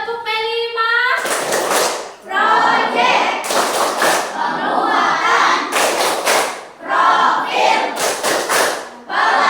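Group of students at SMP Islam Al Falah performing the Tepuk P5 clapping routine, loud bursts of unison claps in a repeating pattern with chanting in between, opening with a teacher's spoken call.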